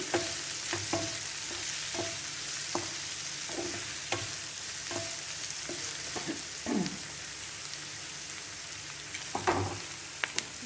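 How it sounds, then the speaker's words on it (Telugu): Onions frying in a pan for a bitter gourd (kasara kaya) curry, a steady close sizzle with occasional spatula scrapes and stirring clatters, no talking. "ఉల్లిపాయలు మగ్గనిద్దాము తర్వాత కాసరకాయలు వేద్దాము"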